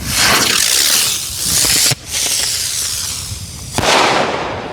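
An aerial spinner firework, the Buzz Bang by Sky Bacon, roars with a loud buzzing whistle and crackle, then goes off in sharp bangs near the two- and four-second marks, all close and loud.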